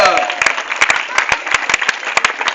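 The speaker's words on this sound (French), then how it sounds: "Applaudissements pour l'histoire David" An audience applauding after a comedy story at a hotel show, sharp individual claps rising into dense clapping, with some vocal noise mixed in.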